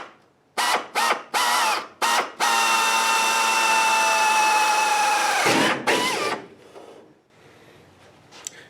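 A power drill, a step drill among the tools, cuts a hole through a steel shock tower panel on a Mustang project car, with several short trigger bursts leading into a sustained high whine before it winds down to scattered clicks.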